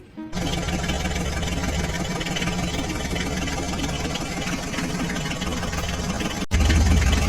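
An HMT tractor engine runs steadily at close range, a loud constant chugging drone, with a brief cut and a slightly heavier rumble near the end.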